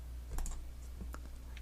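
A few soft computer keyboard key presses while working in Blender 3.0 animation, isolated clicks over a low steady hum, quiet and close.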